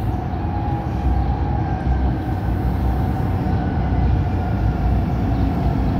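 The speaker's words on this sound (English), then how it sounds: "Here, the train is here." A steady low rumble of a C-Train light rail train arriving in downtown Calgary, with a constant hum and faint metallic whine throughout.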